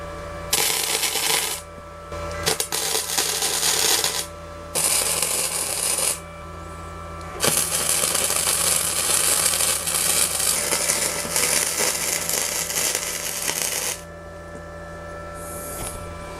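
A Parkside welder runs weld beads on metal with the wire feed speed turned down, giving bursts of dense crackling sizzle of several seconds each, separated by short pauses, loud and close.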